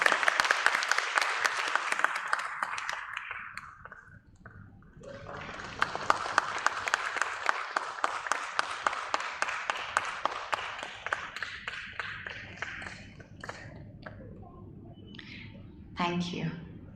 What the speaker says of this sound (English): Yes, that calls for an applause, ladies and gentlemen.